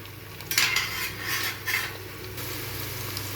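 A spoon stirs onions frying with biryani leaf in a metal pan for cashew biryani, giving a few scraping clinks against the pan over a soft, constant sizzle.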